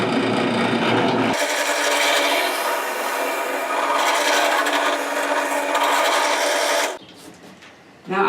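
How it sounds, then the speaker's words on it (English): Drilling the second bolt hole in a lift project: a loud continuous drill whine and grind runs for several seconds, then stops, leaving quieter handling noise. "Okay, so now let's drill the second hole."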